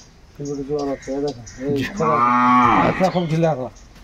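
A dairy cow moos loudly nearby at a cattle market: a few short lowing calls, then one long drawn-out moo, and a final shorter call.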